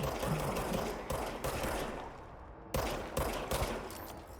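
Gunfire in the video game Control, rapid bursts of sharp shots in quick succession with a brief lull midway before the firing resumes, loud and close.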